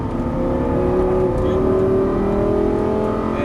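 A Lamborghini Gallardo LP550-2 on a track pulls with a steady, rising engine drone as throttle is applied, loud and close throughout.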